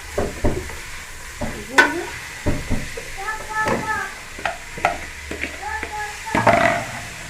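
Cabbage fried in oil and stirred in a pan, with steady sizzling, repeated scraping strokes and clinks, while a person talks over the cooking.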